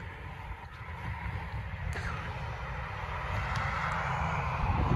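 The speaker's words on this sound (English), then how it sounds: "It's windy, so I'm guessing your audio is gonna be bad." Steady wind buffets a microphone outdoors beside a 1966 Triumph GT6, making a continuous low rumble that slowly builds in strength, with no talking.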